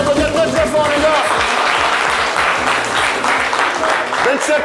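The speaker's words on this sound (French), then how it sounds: "Merci, on peut s'applaudir très fort" An audience applauds in a steady, dense clatter of clapping throughout, with a voice speaking over the noise.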